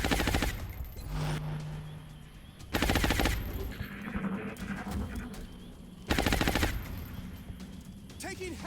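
Automatic gunfire in the Long War mod of the XCOM turn-based strategy game: two loud, close bursts of rapid machine-gun fire over continuous battlefield noise, with a single shot and scattered sharp cracks around them.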